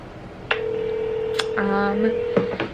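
Close telephone tones: a long steady electronic tone with a few short beeps before and after it.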